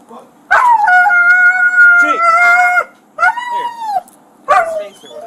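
A dog howls in long drawn-out wavering tones, then gives shorter yelping barks, loud and close, in three separate bursts with brief quiet between.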